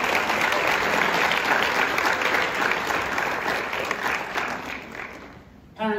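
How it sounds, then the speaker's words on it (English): Dense, sustained crowd applause at a high school National Honor Society induction ceremony, loud and continuous before gradually thinning toward the end. "can we please have a round of applause for all the families that have supported you"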